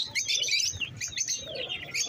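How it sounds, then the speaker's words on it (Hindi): Pigeons of a high-flying breed kept for flying contests call in a dense, steady chorus of chirps and coos, close and continuous throughout, with no talking. "ये उड़ाई वाले कबूतर हैं जी जो बाजियों में उड़ते हैं"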